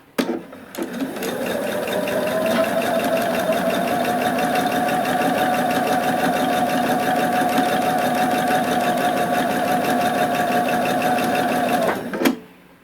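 A sewing machine stitches fabric for a homemade face mask, running in one steady, continuous whirring burst for about eleven seconds before stopping abruptly, close and loud with no talk.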